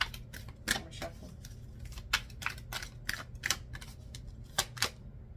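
Playing cards riffled and shuffled by hand at close range, crisp irregular bursts of flicking and snapping with brief pauses between, over a faint low background hum and no talking.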